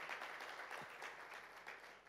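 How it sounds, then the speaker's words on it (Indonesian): Church congregation applauding during an online worship service, a steady wash of clapping from many hands that holds at an even level for about two seconds, with no voices on top. "Beri tepuk tangan dulu yuk buat Tuhan kita Yesus Kristus."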